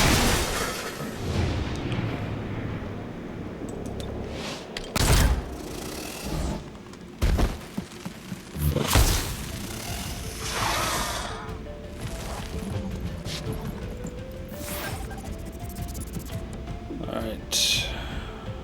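Gunfire and explosions in the XCOM video game, bursts of shots and heavy booming impacts over game noise, with a person talking throughout.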